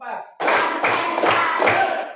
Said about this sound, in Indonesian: Tepuk 1, 2, 3, 4, 5.